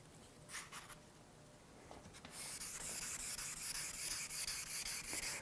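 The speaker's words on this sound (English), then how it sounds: "I'm going to sand the barrel." Wet sanding a guitar's finish with a sanding block and flex paper: steady abrasive rubbing, a continuous sanding swish that grows louder and denser partway through, close and even in rhythm.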